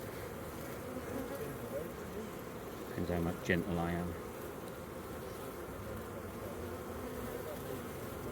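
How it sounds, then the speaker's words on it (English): Honeybees buzz steadily on a hive frame during an inspection, with a low constant drone beneath someone speaking softly nearby. "There we go, a hatching bee."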